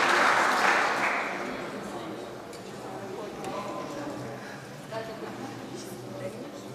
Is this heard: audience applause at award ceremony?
yes